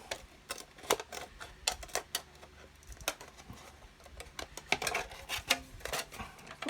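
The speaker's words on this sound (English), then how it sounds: "I'm going to come in with the scissors, and what I'm going to do, I'm going to cut this" Scissors snipping through a Tamiya 1/10 RC GR Yaris polycarbonate body shell, a rapid run of sharp, close clicking cuts in an irregular rhythm, with no talking.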